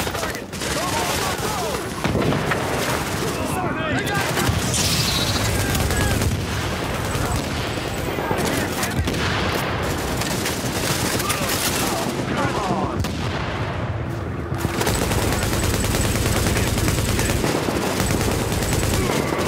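Heavy battle gunfire in Tom Clancy's The Division around Grand Central on hard mode: dense, nonstop automatic weapon bursts and rattling fusillades, loud and close, with shouted voices partly buried beneath.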